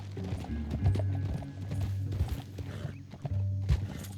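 Horse hooves clip-clop steadily at a walking pace in a western video game, with an occasional whinny and layered game music and ambience underneath.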